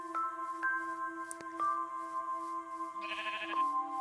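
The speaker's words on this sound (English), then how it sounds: "There's a sheep." Sheep bleat in a video game as sustained tonal cries over soft ambient game tones, with a brighter burst near the end.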